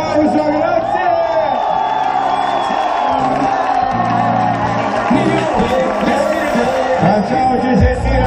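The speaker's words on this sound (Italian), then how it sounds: "Signori, un applauso, grazie!" A crowd at a European title fight final cheers, whoops and shouts loudly and continuously, a noisy arena roar with voices yelling over it throughout.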